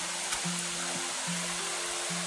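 Water flowing in a river beside a gravel collection spot, a steady broadband rush that runs through the whole stretch, with a low droning tone layered underneath.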